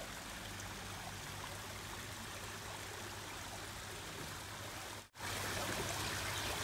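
A waterfall pours steadily into a koi pond, giving a dense, continuous rush of splashing water. The rush cuts out almost completely for a moment near the end, then resumes at full strength.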